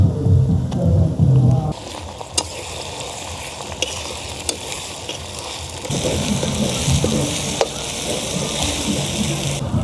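Chopped onion and garlic paste frying in oil for a village-style mutton curry, a loud, steady crackling hiss like heavy rain, with a deeper rumble at the start and occasional sharp pops.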